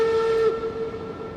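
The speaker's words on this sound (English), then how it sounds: "Nice whistle in the valley, canyon." A steam locomotive whistle in RailRoads Online sounds one loud, sustained chord-like blast that echoes briefly through a canyon, heard alone.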